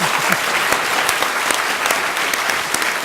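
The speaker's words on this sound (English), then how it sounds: "If you're going to clap, clap!" Loud, energetic applause from a large audience at a Buddhist talk fills the whole moment, continuous and close, with scattered sharper claps standing out.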